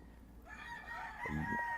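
A single rooster crows once, close and clear, the drawn-out call rising and wavering over quiet background.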